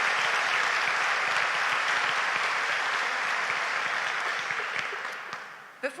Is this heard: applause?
yes